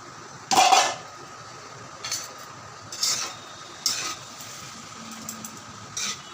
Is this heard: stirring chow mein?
yes